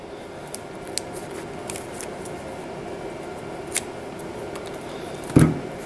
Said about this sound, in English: cut the paper off. You can use your cutters on your wire strippers